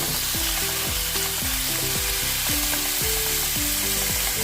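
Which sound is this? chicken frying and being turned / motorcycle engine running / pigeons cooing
chicken frying and being turned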